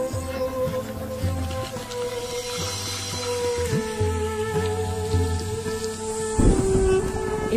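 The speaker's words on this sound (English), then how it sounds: "The annual rains bring a deluge that in a matter of weeks will turn the sepia landscape emerald green." Heavy rain falls steadily in a hot, dry wildlife landscape as the annual wet season breaks, with a sharp louder burst near the end suggesting thunder; sustained tonal layers run beneath, likely a musical score.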